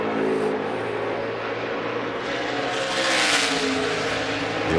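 A NASCAR race car on a qualifying lap, its engine roaring loudly and steadily at high revs with a rising whine as it passes close by.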